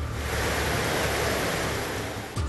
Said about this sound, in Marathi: सांगली जिल्ह्यामध्ये दुपारपासून धुवाधार पाऊस बरसतोय।